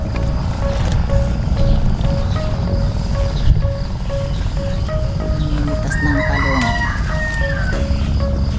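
A rooster crows loudly nearby while other chickens cluck in a calamansi orchard, over a steady low engine-like drone running throughout.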